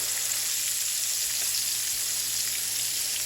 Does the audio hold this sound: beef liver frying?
yes